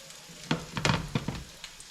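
Egg-coated low-carb chicken Parmesan pieces are laid into a hot pan, giving a few short bursts of sizzling as each piece lands, close and moderately loud, then fading to a quiet crackle.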